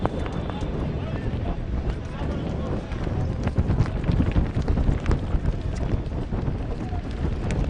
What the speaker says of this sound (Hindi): बहुत ही तेज हवाएं अब बहती हुई इस ग्राउंड के ऊपर।